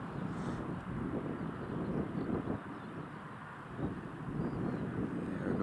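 A KLM airliner lands at Newcastle International Airport, its low engine rumble faint and distant, with wind buffeting the microphone throughout.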